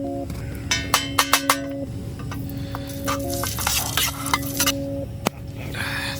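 Biscuits cook in ghee in a camp pan outdoors on a subfreezing winter night, with a low sizzle under metallic clinks and scrapes of utensils and pan, plus a few sharp taps, close and without speech.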